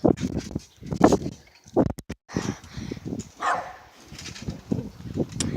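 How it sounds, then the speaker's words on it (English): A dog barks repeatedly close by at a backyard trampoline, a string of sharp irregular barks with short gaps, some whimpery, over faint outdoor background. "Whatever dogs bark about."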